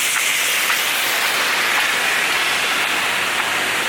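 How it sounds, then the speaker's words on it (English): Steady rain falling on a street in Barrio Barretto, a dense, continuous hiss of drops spattering on pavement and puddles, loud and unbroken with no voices. "The rain is letting up."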